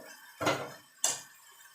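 A spoon clanks twice against a cooking pot, about half a second apart, each a sharp metallic scrape that fades quickly, as spice masala is stirred and fried for a Bengali mutton curry with potatoes.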